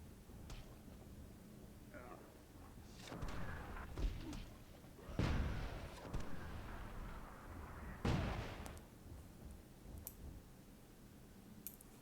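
Mortar fire in the strategy video game Myth comes as several heavy booming thuds and crackling blasts, spaced irregularly at moderate volume, while a commentator talks over the battle.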